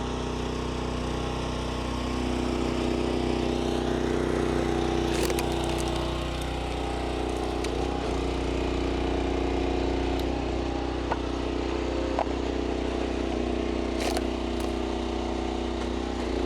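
A gasoline engine on a box-store log splitter runs steadily at a constant drone throughout, close and moderately loud, with a few faint clicks and knocks over the hum.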